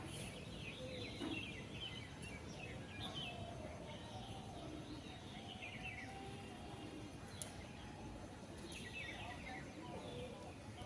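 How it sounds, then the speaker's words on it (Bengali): Birds chirp and call in the early morning at sunrise, with scattered short tweets and a cooing dove over a steady hum of background noise, fairly distant and faint. "এগুলো কিন্তু সব অরিজিনাল পাখিরা ডাকছে"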